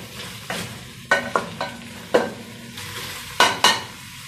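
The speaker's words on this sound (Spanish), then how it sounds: "Aquí también vamos a sofreír ya." Carapulcra ingredients sautéing in a pot, with a steady low sizzle beneath several sharp scraping stirs of a spoon against the pot, spread irregularly across a few seconds.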